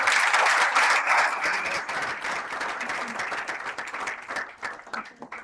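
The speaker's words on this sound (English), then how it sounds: "let's take this moment to give a round of applause to" A student audience applauds the President of the Gambia, a dense, sustained round of clapping that starts strong and slowly thins toward the end, with little speech.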